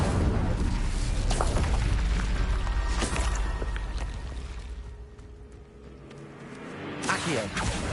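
Incendio fire spell cast in Hogwarts Legacy, a loud whooshing burst with rumbling low-end boom that fades over several seconds before another surge rises.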